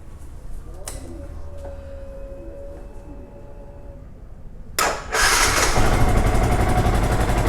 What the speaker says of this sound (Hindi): पहले मैं आपको ओरिजिनल साउंड सुनाता हूँ बाइक की।